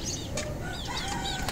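Backyard chickens near a home garden of potted plants cluck noisily, with several sharp, nasal calls rising over a constant low rumble of outdoor background noise.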